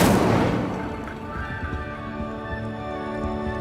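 Incendio fire spell being cast in the game Hogwarts Legacy, a sharp, loud burst at the start that decays into a ringing, shimmering tail with faint crackling.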